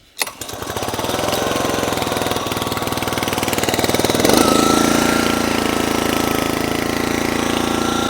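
A gas engine on a firewood log splitter starts up and runs loud and steady, chugging with a rough mechanical rhythm that shifts slightly partway through.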